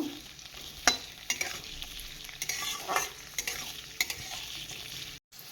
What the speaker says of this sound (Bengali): এখন দিয়ে দেব বিনস, এটা কিছুক্ষণের জন্য নাড়াচাড়া দিয়ে ভেজে নেব।